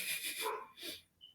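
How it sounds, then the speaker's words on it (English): Several dogs bark in a short, excited burst, a couple of rough yaps close together followed by a brief whimpering yip, fairly faint and heard in the background. "Man, those dogs are wild."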